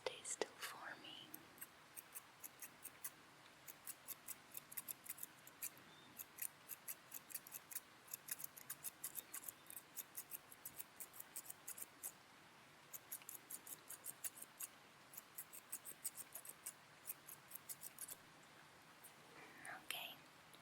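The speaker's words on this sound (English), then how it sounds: "we need to cut just a little bit more on this side here" Scissors snipping hair close up during a gentle haircut, crisp rapid snips in quick bursts with short pauses between, quiet and intimate, with soft whispering at the start and end.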